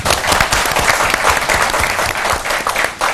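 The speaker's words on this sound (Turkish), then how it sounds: "Büyük bir alkış rica ediyorum" Big round of applause from a Turkish community gathering in Lünen welcoming guest Erhan Yılmaz, many hands clapping loudly and continuously in a full, close room.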